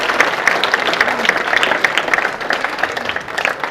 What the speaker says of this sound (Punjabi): ਤਾੜੀਆਂ ਜ਼ਰਾ ਜ਼ੋਰ ਨਾਲ ਮਾਰਨਾ, ਸਾਡੇ ਕੱਪ ਦੀ ਹੌਸਲਾ ਅਫਜ਼ਾਈ ਹੋ ਜਾਏਗੀ।